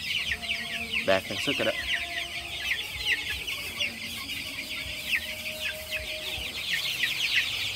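Young chickens cluck and peep in a warm brooder pen, a busy overlapping chatter of many birds close by, with someone speaking briefly over them.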